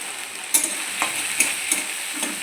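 A paste of cumin, ginger, chili and coriander fries in a pan with tomato and turmeric for a fish roe curry. It sizzles steadily up close, and the spatula scrapes through it at a regular rhythm.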